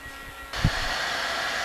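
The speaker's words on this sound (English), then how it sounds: "We're going to crank the car and turn the AC system on." A car's air conditioning kicks on with a brief thump as the engine runs during a recharge, then a steady broadband blowing whir continues, fairly loud and constant.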